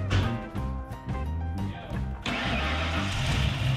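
A Ford Bronco's newly installed 351 Windsor V8 cranks in a few rapid bursts, then catches and settles into a steady, loud running rumble.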